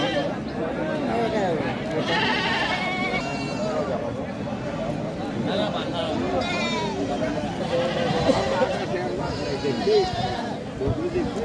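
Goats bleating repeatedly at a busy livestock market, several animals calling near and far amid a steady crowd hubbub with people chatting throughout.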